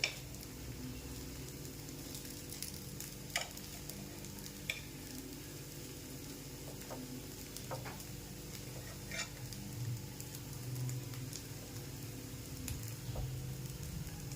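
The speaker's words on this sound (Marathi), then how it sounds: "आपण याच प्रकारे आपली दुसरी बाजू आहे ती देखील चांगली फ्राय करून घेऊ" Rava appe fry in oil in an appe pan, a soft continuous sizzle with scattered faint crackles and occasional light ticks, quiet and close, with no talking.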